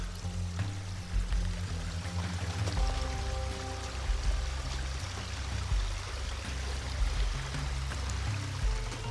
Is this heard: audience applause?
no